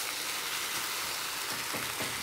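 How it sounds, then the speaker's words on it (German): Lahmacun flatbread sizzles in a frying pan, a steady broadband hiss and crackle held at a fairly low level for a couple of seconds with no talking. "So, unseren Fladen haben wir jetzt hier. Den einmal in die Pfanne rein."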